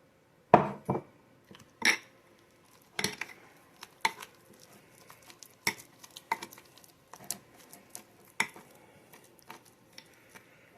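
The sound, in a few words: mixing cookie ingredients with coconut oil in a bowl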